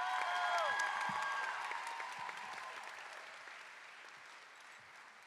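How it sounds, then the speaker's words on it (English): A high school commencement audience at the Broward Center for the Performing Arts applauds and cheers for the valedictorian, the clapping loudest at first and gradually fading, with a few whistles and cries near the start. "Please join me in cheering for a truly distinguished valedictorian"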